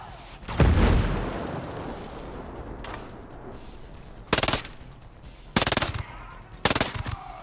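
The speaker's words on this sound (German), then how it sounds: "Oh, Mörser!" Mortar fire in the video game Ghost Recon Breakpoint: a heavy boom early on, then three sharp loud blasts spaced about a second apart, each followed by a short rumble.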